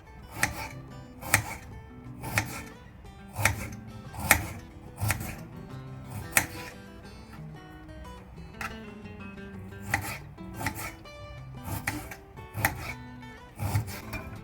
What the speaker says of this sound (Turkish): Şimdi soğanlarını doğruyorum.